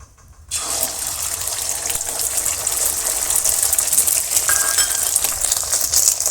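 An egg hits hot oil for an omelette in a village kitchen, setting off a sudden, loud sizzle that crackles on steadily and close by.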